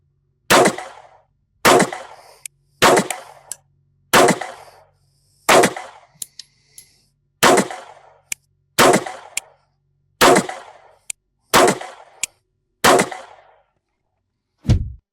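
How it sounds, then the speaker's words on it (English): A 9mm pistol firing a slow string of about a dozen loud, sharp shots at a target 25 yards away, each report followed by a short decay, with an occasional faint metallic clink between shots. "I'm at 25 yards, and let's see how it hits a few shots down there."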